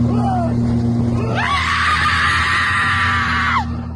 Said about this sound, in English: they raised their voices, shouting and screaming to discourage the protective mama bear